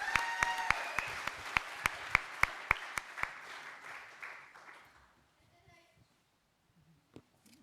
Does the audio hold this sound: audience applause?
yes